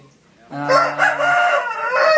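A fighting rooster crows once, loud and close, its call rising sharply and then trailing into a ragged second part.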